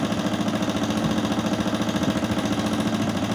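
An old Honda Karizma motorcycle, long left standing, idles just after a kick start with a steady, rapid, even engine thump that is close and loud, alone without voices.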